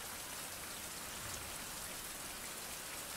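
Steady rain pours down in the open-world survival game Survival: Fountain of Youth, set on a Caribbean island, a dense, even hiss with no pauses and no voices over it.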